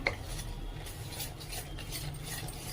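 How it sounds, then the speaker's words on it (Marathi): Vegetable appe batter whisked in a bowl, a soft continuous rhythmic scraping and swishing at close range, fairly quiet, with no voices. "थोडंसं पाणी टाकून घ्यायचं त्यामध्ये डायरेक्ट नाही टाकायचं आहे म्हणजे छान असा फेटला जातो आणि एकत्र करून घेऊया मस्तपैकी फेटून घेऊया"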